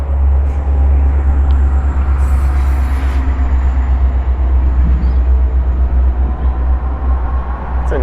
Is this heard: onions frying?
no